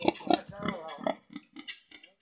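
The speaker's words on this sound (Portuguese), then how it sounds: "Olha os porcos." Pigs on a farm grunt and oink in a few short, close bursts, with a person talking over and between the animal sounds.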